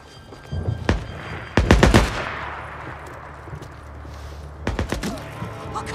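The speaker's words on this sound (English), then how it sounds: "Why are these guys shooting each other?" Gunfire in the video game Days Gone, a few sharp nearby shots in quick succession, then a lull of low rumbling ambience before another short cluster of shots.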